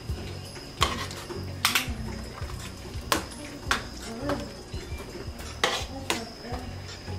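Metal spoon clanking and scraping around a pot as menudo ingredients are mixed, with a steady run of sharp clinks and knocks at close range and no talking.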